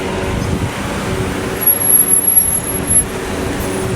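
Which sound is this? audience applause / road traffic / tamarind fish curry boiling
road traffic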